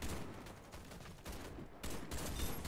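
Gunfire in the Warface shooter on Nintendo Switch: several bursts of rapid automatic shots that run almost continuously, with short breaks between volleys, loud and close.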